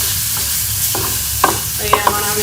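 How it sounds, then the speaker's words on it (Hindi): Potato and coriander are stirred into fried masala in a pan, a low sizzle under repeated spoon scrapes and a few sharp metallic taps, close and fairly loud, with no talking. "हम आलू और धनिया को जो है वो मसाले के साथ अच्छी तरह से मिक्स कर"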